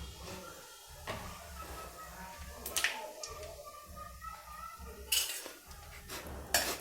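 Whole spices such as black cardamom, a dried red chilli and mace are stirred in a cooking pot, with several distinct metallic clinks and scrapes of a utensil against the pot over a low steady background.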